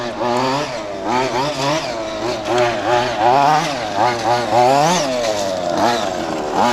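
Léopard Race 2wd RC car engine screaming at full throttle, a loud, close, high-pitched two-stroke whine rising and falling continuously as the car accelerates and passes.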